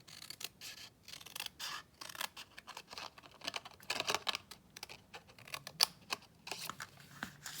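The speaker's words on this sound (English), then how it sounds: "I'm going to take my paper snips and I am going to snip out this piece from the corner up to that 2-inch tick mark" Paper snips cutting through card paper while making a handmade card, a close, quiet series of sharp snipping clicks in an irregular rhythm with short pauses between cuts.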